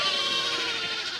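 Sheep and goats on a Zambian farm at feeding time: a continuous nasal bleating chorus, several animals calling at once at moderate level, with a steady background hum and no talking.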